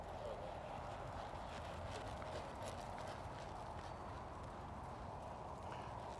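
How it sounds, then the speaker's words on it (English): Hooves of a young horse under saddle in training, trotting and then galloping, making a steady rhythmic clip-clop under a continuous noisy background while someone talks. "Keep in that trot for a minute, and then once she's smooth in that trot, then just ask her to go to a gallop from there."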